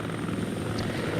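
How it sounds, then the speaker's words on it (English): A large transport helicopter in the video game Heliborne drones steadily and loudly, its rotor chop and engine whine continuous and up close, with no voices. "this is a big ass helicopter with the maneuverability of big bus"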